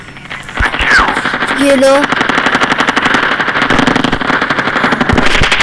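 Gunfire in the video game Call of Duty, a loud, rapid burst of automatic shots that starts after a brief pause and continues steadily, with a short spoken remark and other game sounds at the start.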